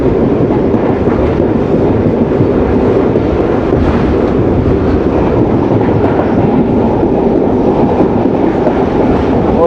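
A Pakistan express train on the Rawalpindi to Dina line rolls around a curve, a loud, continuous close-up rumble of wheels and carriages with rushing wind throughout.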